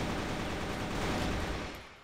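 Sustained gunfire from the online shooter CrossFire runs as a dense, steady rattle for about two seconds before it tails off. It sounds close and is heard with no talk over it.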